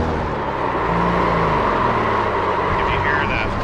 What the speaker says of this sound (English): that is the traction control kicking in